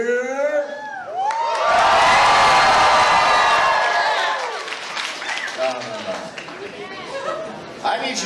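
A fursuit dance competition crowd at a convention bursts into loud cheering, whoops and applause that swell and hold for several seconds before fading into chatter and shouts, with a voice talking over the end.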